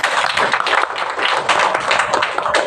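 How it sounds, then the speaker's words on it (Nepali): A church congregation applauding at a deacon anointing service, steady dense clapping from many hands, loud and close throughout. "ताली बजाइदिनुहोस्।"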